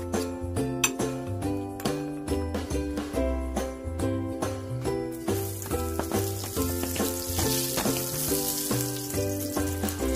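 Garlic frying in a little oil in a pan while cooking Mexican-style chicken quesadillas. A steady sizzle grows louder in the second half beneath prominent rhythmic background music, with no talking.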